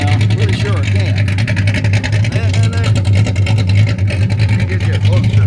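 A Chevy 350 V8 with its full exhaust system, being fitted into a Chevy Nova project car, idles with a deep, steady rumble close by, its low throb continuous throughout while someone talks over it.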